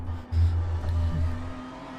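A race car in an N24 endurance racing video game drones with a steady low engine hum after a spin. It holds an even, continuous tone with no voices.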